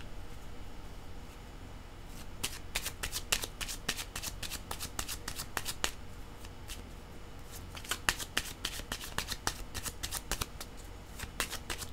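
A deck of cards is shuffled again and again, with quick crisp riffles and snaps in bursts over a quiet background, close and fairly soft.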